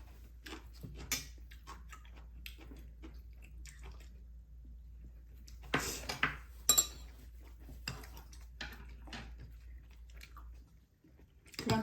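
Eating Korean steamed egg (gyeranjjim) at a home table alongside stir-fried webfoot octopus, with soft chewing, occasional bites and light clinks of cutlery against dishes, faint and intermittent in a quiet room.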